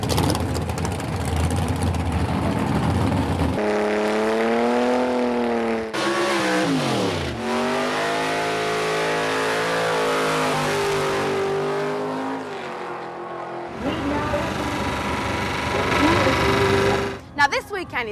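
Drag racing cars accelerating at Santa Pod Raceway, a loud, sustained engine roar with rising and falling pitch sweeps as the cars launch and pass. Brief breaks split the roar, and a voice talks over parts of it.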